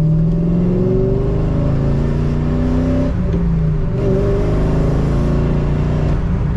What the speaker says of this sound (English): I'm going to do a little bit more of an aggressive braking up here just to make sure.